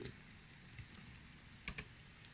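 Keystrokes on a computer keyboard as a Linux terminal command is typed, a faint scatter of soft clicks with two sharper key taps standing out near the end, no voices.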